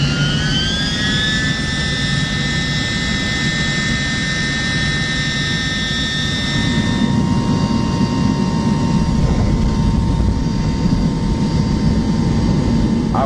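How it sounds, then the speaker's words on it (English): An Air Koryo airliner's jet engines scream loudly while landing at Pyongyang, with piercing whining tones that hold and slide lower over a heavy continuous roar heard from inside the cabin, with no talking. "It was one of the screaming, the loudest noise I ever heard from an engine."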